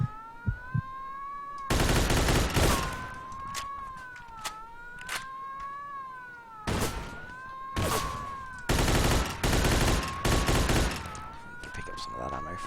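Gunfire crackles through a shootout in Mafia II, with repeated bursts of rapid shots over a wailing police siren, while a voice talks intermittently between volleys.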